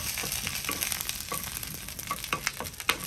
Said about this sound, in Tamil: கடுகு கொஞ்சம் போடுவோம். பெருஞ்சீரகம் போடுவோம்.